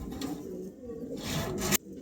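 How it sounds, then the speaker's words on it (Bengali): Pigeons at a pigeon farm coo in low, throaty calls that continue steadily through the moment, close by, with a brief rustling burst near the end. "খুবই চমৎকার সব কবুতর"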